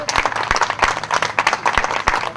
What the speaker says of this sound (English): he really needs a round of applause